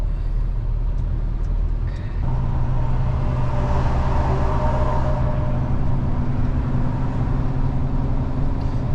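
A truck hauling a John Deere 935 combine harvester rolls along the road, with a steady, loud engine drone and broad road and tyre rumble that continue unbroken for the whole stretch.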